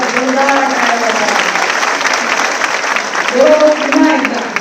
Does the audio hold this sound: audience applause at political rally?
yes